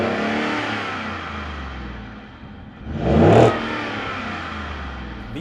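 A Ford F-150 pickup with its stock exhaust idles outside, then revs once in a short, loud burst before dropping back to a steady idle, heard from close by.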